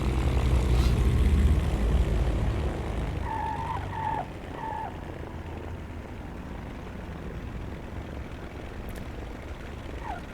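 A propeller aircraft engine in reverse in the X-Plane flight simulator during a bush-flying session: a steady droning engine hum, louder at first and then easing to a constant lower level, with a few faint chirps over it.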